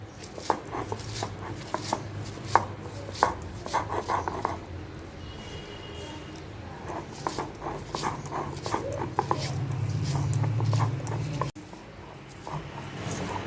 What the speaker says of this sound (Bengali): সেই জন্য আমি শিলনোড়াতেই বেটে নিচ্ছি